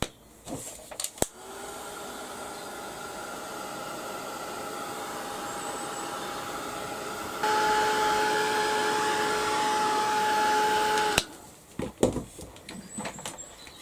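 A hair dryer blasts steadily at a mixed media song bird artwork to dry it, running alone for about nine seconds with a steady whine that jumps louder and higher partway through, then cuts off.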